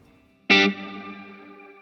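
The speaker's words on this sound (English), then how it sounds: "It feels like a space, but you don't hear the echo or that time delay between hitting the note and the reverb tail." A single guitar note rings through a Plethora X5 shimmer reverb with a short delay, struck sharply and then sustaining as a bright, shimmering tail that slowly decays on its own.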